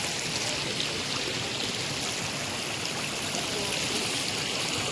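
Water flows at Badaghagara waterfall in Keonjhar, a steady, full rushing roar with no breaks, close and constant from start to finish, with no one speaking.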